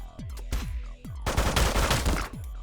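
A robot in the Megabyte Punch video game fires rapid synthetic shots, with punchy thuds and falling electronic zaps followed by a dense burst of loud bursting fire.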